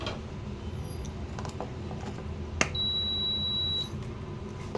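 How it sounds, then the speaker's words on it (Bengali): An induction cooktop is switched on with a short click followed by a single steady electronic beep lasting about a second, clear above a quiet kitchen background. "ইন্ডাকশানটা চালু করে দিলাম।"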